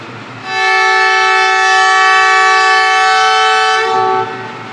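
The Sialkot Express at Pasrur railway station sounds a loud, sustained departure whistle, a single steady blast of about three seconds that stops abruptly over a low rumble of the train.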